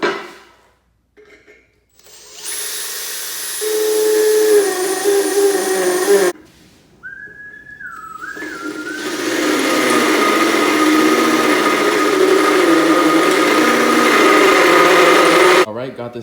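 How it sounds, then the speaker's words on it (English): A power drill bores a pilot hole in intercooler piping for a turbo Integra, whining up in bursts with short pauses between, loud and close, the longest run grinding steadily for several seconds. "I'm gonna give it a nice little pilot hole first."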